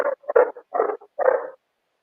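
A Great Pyrenees puppy lets out a short run of low, throaty grumbling noises, four or five close, muffled bursts in quick succession, then silence.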